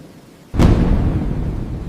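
Thunder cracks suddenly at night during a rainstorm, a sharp clap rolling into a loud, sustained rumble over steady rain.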